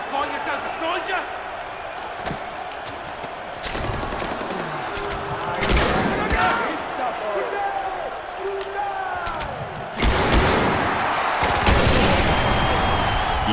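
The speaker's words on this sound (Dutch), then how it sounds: "Maar ik lok hem wel gewoon hierheen en dan schiet ik op zo'n ton." Gunfire in the video game Far Cry 4, with sharp repeated shots and bursts and a louder blast later as a barrel is hit, heard among game sounds while someone talks.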